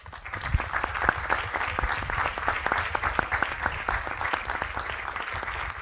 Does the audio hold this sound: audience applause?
yes